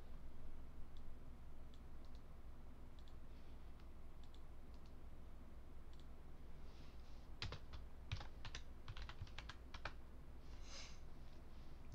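Typing on a worn computer keyboard during PC gaming, faint scattered keystrokes at first, then a denser burst of quick clicky presses in the second half, quiet and close with no talking.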